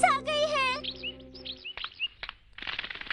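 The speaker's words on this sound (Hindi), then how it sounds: "ये तो चिड़िया की आवाज है" Bright cartoon bird chirps in an animated scene, a series of quick tweeting calls after a sustained tonal sound, fairly close and clear with brief voices nearby.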